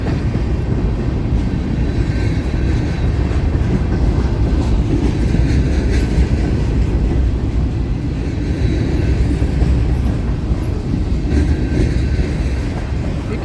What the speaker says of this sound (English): Alright, the train's almost done.